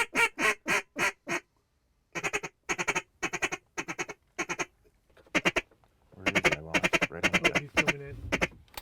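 Ducks quack on a Louisiana duck hunt in a run of loud, evenly spaced calls, then spaced pairs after a short pause, finishing in a denser, overlapping flurry of quacks.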